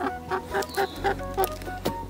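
A local chicken clucks in a rhythmic series of close, clear clucks lasting about two seconds, heard alone with no talking.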